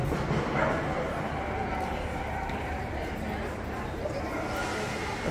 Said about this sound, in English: there's one that looks like it's part border collie